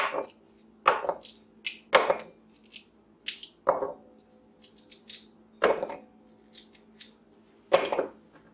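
Freshly harvested, washed carrots cut up on a board, with crisp, evenly spaced chops and snaps about once a second, close and clear against a faint background hum.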